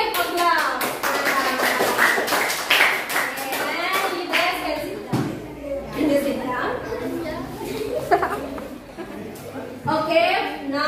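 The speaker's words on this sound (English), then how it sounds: "please give a clap." A class of students claps for a group presentation, crisp bursts of clapping that come and go amid children's voices and chatter in the classroom.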